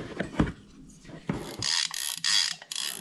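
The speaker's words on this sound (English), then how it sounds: "And then the sound of the drag, it's not overly loud and it's not quiet." Drag on a Coast fishing reel clicking as line is pulled, short bursts of fast ratcheting clicks at moderate volume, close and without speech.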